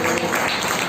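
A church congregation applauds in a brief burst of steady, dense clapping that fills the moment without a clear start or end.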